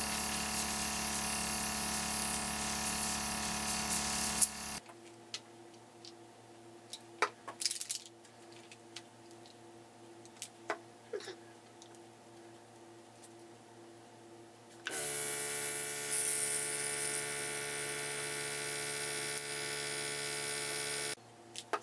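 Airbrush spraying makeup as a very light dusting gives a steady, close hiss in two sustained bursts separated by a quieter stretch with faint clicks.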